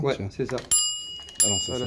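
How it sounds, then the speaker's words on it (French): A modern bicycle bell in a bike shop, fitted to a bike with a Nexus hub system, rings in two bright bursts between French conversation, with talk running under and around it. "c'est la sonnette"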